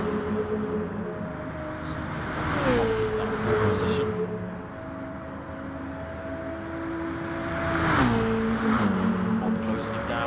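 Race cars lapping Circuit de Spa-Francorchamps in a racing video game, with engines whining through gear changes and pitch drops, loud and continuous, while a commentator talks over them.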